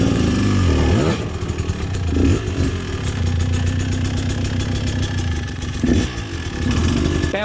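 An enduro motorcycle in a rocky creek bed, its engine loud and close, revving hard, dipping and stalling, then bursting back to life in uneven surges.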